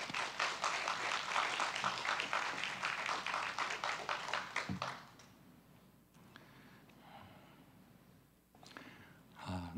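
A church congregation at an anniversary revival meeting applauds to welcome the pastor. Dense crowd clapping holds for about five seconds, then fades into a quiet room with a few scattered sounds.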